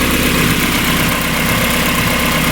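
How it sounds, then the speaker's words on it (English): A 1994 Mazda Miata engine idles steadily and loudly up close, a continuous low rumble with even vibration and no talking, just after exhaust flange gasket replacement work. "Engine sounds great."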